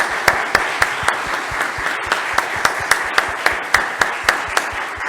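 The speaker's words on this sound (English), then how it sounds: "a round of applause for our wonderful presenters." Audience applause for presenters at the close of a community talk: a steady wash of many hands clapping, with sharper individual claps standing out regularly, fairly close and sustained throughout.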